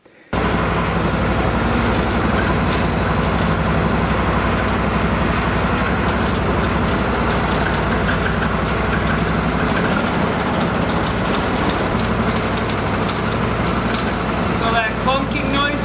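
An Argo amphibious vehicle engine, freshly fitted with a new belt, starts and idles gently in a steady, close, continuous low rumble, with a rising whine near the end.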